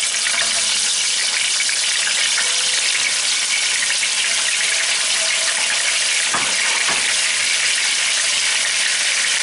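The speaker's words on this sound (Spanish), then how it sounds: "una vez calentado el aceite, hemos salpimentado la carne y vamos a sellar el pollo" Seasoned chicken searing in hot oil in a pan, a steady loud broadband sizzle running throughout with a couple of brief crackling pops near the end, no voices.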